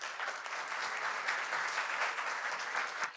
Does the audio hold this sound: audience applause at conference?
yes